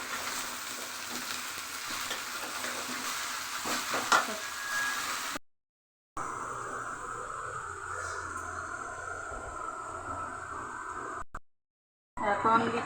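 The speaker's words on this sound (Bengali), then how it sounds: "এখন আমি এসর আলু ঢেলে দিচ্ছি, এগুলো একটু ভেজে নেব।" Potatoes frying in a hot pan give a steady, close sizzle with stirring scrapes, broken by two brief silent gaps before the hiss resumes at the same level.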